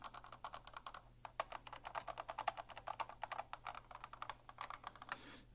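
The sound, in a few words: typing on Unicomp Ultra Classic buckling spring keyboard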